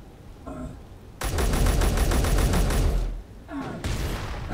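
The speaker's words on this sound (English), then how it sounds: "Oh, and he's shooting at our Gatlin." A video-game enemy opens up on a Gatling turret in a long, loud burst of rapid machine-gun fire. Quieter mechanical sounds come before it, and shorter bursts follow.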